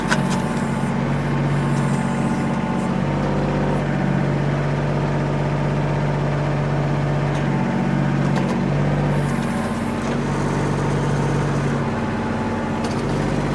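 A 2013 Kubota L3800D tractor engine idles steadily and close by, a constant low rumble with a droning hum that holds at an even level throughout.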